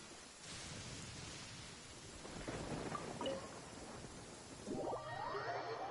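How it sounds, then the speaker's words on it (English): Thunderstorm in the video game Genshin Impact, with steady rain hiss and a low rolling rumble of thunder building midway, fairly quiet and without voices. "Thunder."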